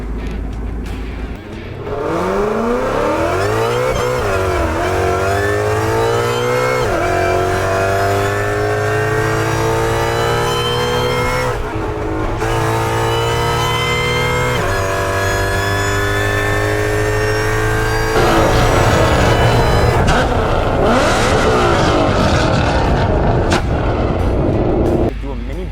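A Maybach with a muffler-delete exhaust accelerates on the road, its engine note rising and dropping through the gears with loud, continuous roaring and harmonic sweeps. It sounds close and aggressive throughout, and a few crackles pop out under the drone.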